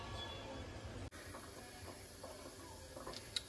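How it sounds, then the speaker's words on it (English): A pressure cooker canning quart jars of bear meat at around 13 to 14 pounds of pressure, its regulator letting out a steady, low hiss of steam, broken by a faint click and a small bump near the end. "So we got the pressure cooker up and going."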